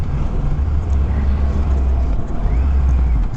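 2021 Triumph Rocket 3 GT motorcycle riding in fourth gear on Southern California roads, a loud, steady low engine drone mixed with rushing wind from the rider's position.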